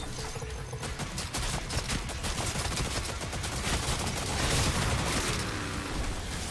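Rapid bursts of weapon fire from Doom blast away steadily, dense and loud with a continuous rattle and booms, no talk heard.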